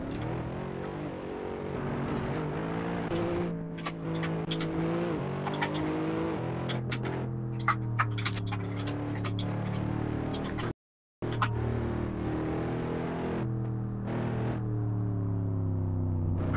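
Formula 1 2009 cars race in Assetto Corsa at the China round, a continuous droning engine note with shifting pitch and brief sharp clicks, steady and fairly loud, cut by one short gap of silence.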